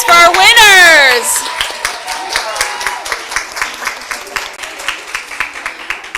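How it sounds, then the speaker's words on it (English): A crowd gives winners of a cosmetology costume showcase a round of applause. A loud tonal burst opens, then distinct claps ring out in a loose, quickening rhythm that settles into a steady patter. "Let's give a big round of applause for our winners."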